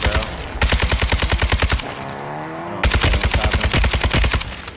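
Rapid automatic gunfire in a video game rattles loud and close in two long bursts, with a short gap between them.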